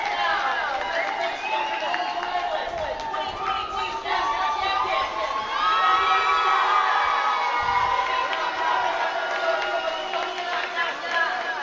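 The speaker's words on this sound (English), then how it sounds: "Crowd are giving their appreciation." A stadium crowd at a women's rugby national championship cheers for the silver medalists, with loud, sustained whoops, shouts and high voices filling the air and some scattered clapping in the mix.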